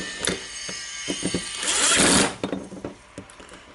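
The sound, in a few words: moving the blade slider of a Makita BJV180 jigsaw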